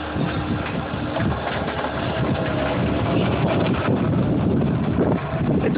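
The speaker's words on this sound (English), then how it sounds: "It's quite a blustery day out today. The winds are quite strong" Strong, blustery wind buffeting a microphone outdoors on a chilly day at a snowy construction site, a dense rumbling roar with gusty low-end thumps, steady and loud throughout with no voices.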